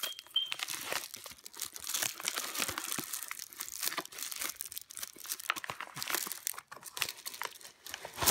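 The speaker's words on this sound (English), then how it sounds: "I cut the wrapper apart" Plastic wrapping on a cheap rotary tool kit box being torn and pulled off: close, continuous crinkling and crackling with quick ripping bursts, heard alone without talking.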